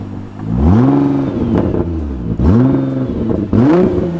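A Nissan GTR accelerates in the snow with its exhaust note rising in repeated revving sweeps, three climbs with brief drops between them as the engine pulls hard, close and loud.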